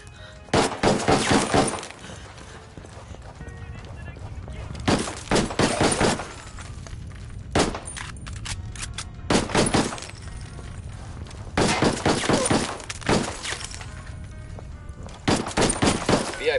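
Bursts of automatic gunfire from a Ghost Recon Wildlands firefight, loud and close, arriving in several separate volleys of rapid shots with short gaps of quieter background between them.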